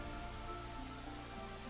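Steady rain pours in the video game Psychedelica of the Black Butterfly, a dense, continuous hiss of drops on surfaces under a low, droning ambient hum, with no voices.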